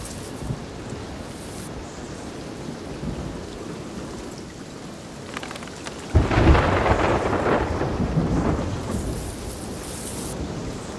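Steady rain patters across a stormy sea in Sea of Thieves, with a loud, close rumble of thunder breaking in around the middle and rolling on under the continuing downpour.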